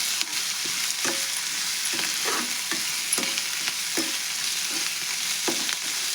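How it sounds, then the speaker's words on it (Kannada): Chopped onions fry in hot oil in a pan, giving a steady close sizzle. A spoon scrapes through them roughly once a second in a loose repeating rhythm, with no voices. "ಎಣ್ಣೆ ಒಳಗೆ ನಾನು ಉಳ್ಳಾಗಡ್ಡೆ ಕರ್ಕೋತೀನಿ ನೋಡ್ರಿ."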